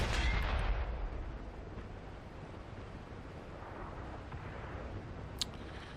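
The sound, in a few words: tank cannon shot in the video game World of Tanks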